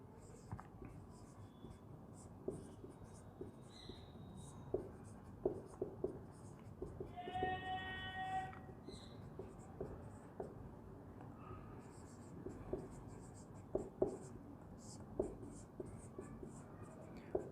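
Notes being written by hand during a biology lesson, scattered soft pen or chalk strokes and taps spread over several seconds, close but faint, with quiet background noise and a brief tonal sound partway through.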